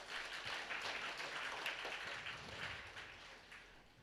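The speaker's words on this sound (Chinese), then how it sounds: "我们拍手来感谢神" A church congregation claps together during a Sunday service, a dense, fairly faint wash of many hands that carries steadily for a few seconds, heard from some distance with no talk.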